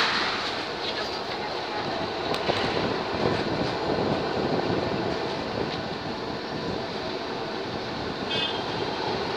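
A KCV7 tram on Budapest's line 2 rides along the Danube bank, heard from inside as a steady, loud rumble of wheels and motor with a few faint rail squeals throughout.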